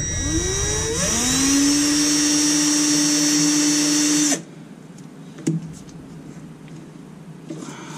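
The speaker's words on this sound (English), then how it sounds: "this drill is just a little bit smaller, so it'll fit in here" A small electric drill whirs loudly, rising in pitch as it spins up, runs steadily for about four seconds, then cuts off, leaving quiet background with a faint knock; working on a Jeep TJ.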